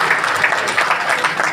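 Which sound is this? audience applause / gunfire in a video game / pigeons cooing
audience applause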